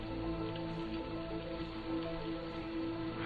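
Heavy rain pours down in a steady, even hiss during a storm scene as people climb along the edges of a building, with a low sustained tone beneath it.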